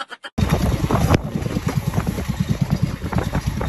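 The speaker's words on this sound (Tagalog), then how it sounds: "Sa sobrang lalaki nga ng alon at banglakas nga ng hangin ng mga time na yan" Small boat out at sea off Talim Island, battered by strong wind and big waves: loud, continuous wind roar and buffeting on the microphone with rhythmic water slaps against the hull, after a few brief knocks at the start.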